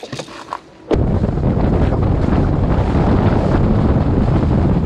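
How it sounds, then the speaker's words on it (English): Strong wind buffets a reef shore on the Great Barrier Reef at low tide, a sudden gust slamming in after a quieter moment and then roaring steadily with loud microphone rumble. "Seriously, so windy."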